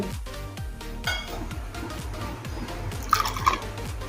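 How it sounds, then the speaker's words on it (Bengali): A small amount of water is added to a thick, set semolina batter, giving soft, rapid trickling and dripping pulses close by, with a couple of light clinks near the end. "একদম অল্প পরিমাণে জল দিয়েছি।"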